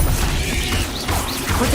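Expelliarmus disarming spell in Hogwarts Legacy, a sharp magical crash and swoosh amid dense game effects and low rumble, loud and brief, without talking.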